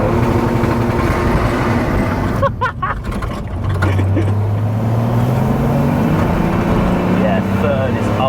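Diesel M57-swapped BMW E46 Compact making 350 bhp accelerates hard in third gear, a loud rising engine drone climbing steadily in pitch, heard close under people talking.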